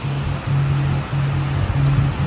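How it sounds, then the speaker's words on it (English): Steady, dense wash of heavy rain pouring down, broad and unbroken, with a low droning hum running underneath. "The rain has come, folks."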